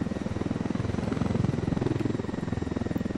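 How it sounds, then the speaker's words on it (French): A helicopter flies in the Ghost Recon Wildlands video game, its rotor giving a steady, rapid low thumping chop that stays constant and close throughout, with no talking. "Je peux même pas atterrir mon hélicoptère dans un endroit où je peux..."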